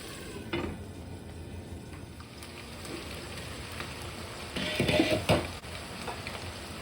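Onions sizzle softly in a pan while cooking for a fish bhuna, a low steady frying hiss that swells with louder crackles and stirring near the end.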